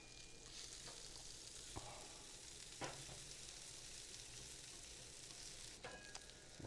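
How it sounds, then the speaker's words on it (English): Onions sizzle in Wagyu beef tallow on a flat griddle, a quiet, even hiss of frying throughout with a few faint utensil clicks along the way. "Get down a little bit of that Wagyu beef tallow. Get that spread around. And get our onions right in there."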